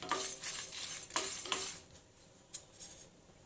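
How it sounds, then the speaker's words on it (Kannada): Lentils and curry leaves dry roast in a pan, giving faint, scattered scraping and clicking stirs with quiet gaps between them. "ಡ್ರೈ ರೋಸ್ಟ್ ಮಾಡ್ಕೊತಾ ಇದ್ದೀನಿ ಎಲ್ಲನೂ."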